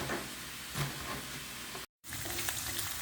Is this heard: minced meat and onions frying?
yes